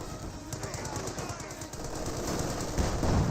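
Sustained rapid automatic fire from an MG42 machine gun in the Company of Heroes 2 video game, a dense continuous rattle that swells toward the end, with a voice talking over it.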